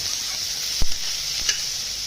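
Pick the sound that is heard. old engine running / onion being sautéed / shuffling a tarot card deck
onion being sautéed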